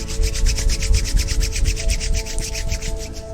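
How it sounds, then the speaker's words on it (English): Two hands briskly rubbed together to warm them, a quick rhythmic series of dry swishing strokes, close and fairly loud, over a low steady background hum. "rub your hands together, heat them up like you're trying to start a fire"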